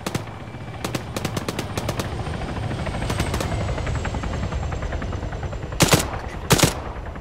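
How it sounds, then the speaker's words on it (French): A helicopter in the Arma 3 video game closes in with a steady rotor drone while bursts of machine-gun fire crackle through it, ending with two louder, closer volleys. "C'est l'hélico qui arrive pile face à nous là. Oh putain, il arrose"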